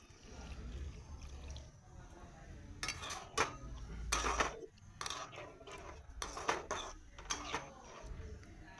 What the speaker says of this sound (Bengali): সেদ্ধ হতে দিয়ে আমি বাসন ছিল কয়েকটা মেজে নিলাম